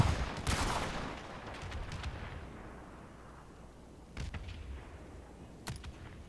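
Several booming gunshots in a multiplayer shooter, a loud crack up front, then more distant reports echoing and rolling away with long decays.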